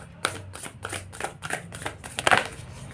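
Tarot cards are riffled and shuffled in a quick run of crisp, papery bursts at close range, ending in a sharper snap as one card flips out of the deck.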